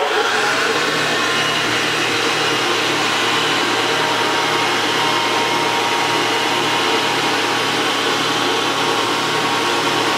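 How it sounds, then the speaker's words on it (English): A Millbury BT 112 tenoner woodworking machine with cope heads runs with its guards removed, giving a steady, loud, continuous mechanical whir and hum throughout with a faint low cyclic pulse. "We have the guards removed just so you can see the machine running."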